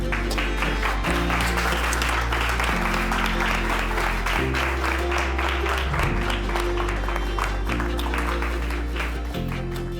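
Studio audience applauds a singer's entrance with steady, dense clapping over a low musical bed throughout.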